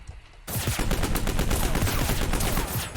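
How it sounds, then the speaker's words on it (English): Rapid, sustained bursts of light machine gun fire in the shooter game Project Genesis, loud and continuous after a sudden start, with dense repeated shots. "That LMG is really good. A lot of ammo."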